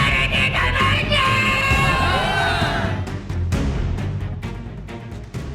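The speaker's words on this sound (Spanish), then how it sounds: "En la manifestación había más gente de la que me imaginaba, muchísimos gritos, ruido" A large crowd at a street demonstration in Japan yells and shouts continuously, loud and close, with overlapping voices and sharp calls that thin slightly toward the end.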